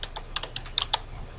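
Fingers type a short burst on a computer keyboard, about eight crisp key clicks in quick irregular succession, close and clear with no voice.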